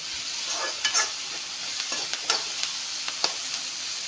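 Onions frying in a pan, a soft steady sizzle broken by repeated scraping stirs of a spatula, close and moderately loud with no talking.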